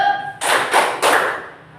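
Three quick, loud hand claps ring out close by in a short, even rhythm, a classroom clapping chant.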